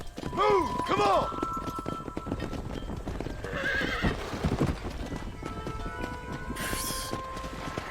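Wild broncos in Red Dead Redemption 2 whinnying twice in quick succession, then galloping hooves clattering on, with a further neigh midway and scattered herding noises beneath.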